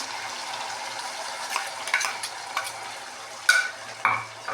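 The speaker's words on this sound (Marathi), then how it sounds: "आता हे आपल्याला सगळं ह्याला तेल सुटेपर्यंत भाजून घ्यायचं आहे" Paste of onion, tomato, cashew, garlic and ginger cooking in oil for shahi paneer, a soft bubbling sizzle with intermittent scrapes and clinks of a spoon against the pan, with no voices.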